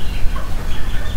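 Serama chickens clucking close by in a loud, busy burst of short, repeated clucks and calls over a noisy background, with no talking.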